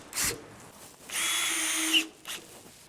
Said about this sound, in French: on visse directement avec les vis fournies noires